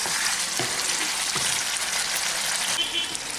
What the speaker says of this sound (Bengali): এখন আমি এটাকে ভালো করে একটু নেড়ে দিচ্ছি।